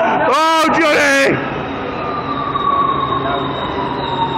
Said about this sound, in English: The train's coming. Watch out for the train!